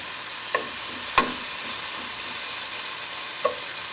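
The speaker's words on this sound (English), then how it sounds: "I'm going to let this sizzle a little bit." Steady broadband sizzle of prosciutto frying in a pan, with a few sharp clicks and scrapes over the constant hiss.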